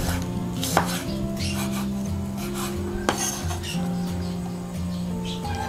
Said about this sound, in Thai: แล้วก็หั่นแฉลบไปแฉลบมาค่ะ